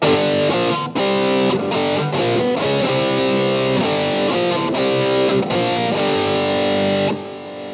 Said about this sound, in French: Donc là, vous avez pu entendre avec de la distorsion.